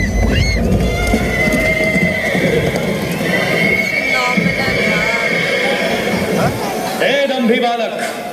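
A horse whinnies loudly during a Mahabharata-themed musical fountain show narration at Bagh-e-Bahu, the neigh set against dense music and sound effects, with a narrating voice running throughout.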